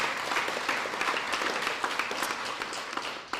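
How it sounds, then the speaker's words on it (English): An indoor audience claps steadily through the whole short stretch, a dense even patter of many hands at moderate distance, without cheering. "that deserves a round of applause"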